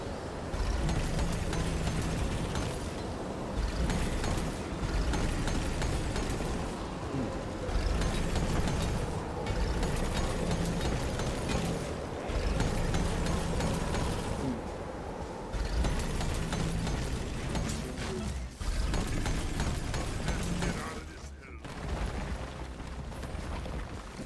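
Video game explosions in Deep Rock Galactic merge into a continuous, heavy, rumbling roar with repeated bursts and booms and brief dips.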